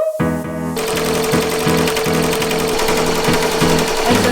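An embroidery machine stitches a logo at 800 stitches per minute, its needle hammering in a fast, steady mechanical rhythm close up, loud and continuous after a brief quieter start.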